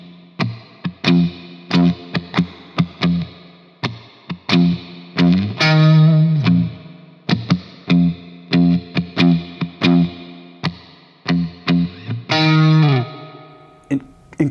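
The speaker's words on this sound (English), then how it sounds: "The bass is literally just going." A distorted electric guitar and bass groove over drums in a simple, bluesy riff, with punchy repeated hits and sustained chords in a steady rhythm, loud and up front.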